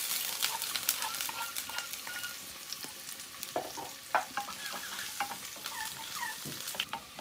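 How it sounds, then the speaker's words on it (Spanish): Onion sizzles in a pan as it starts to fry for refried beans, a soft continuous crackle with scattered pops and the scrape of stirring, fairly quiet and with no voices. "Por este lado un poco de cebolla para empezar a sofreír los frijoles."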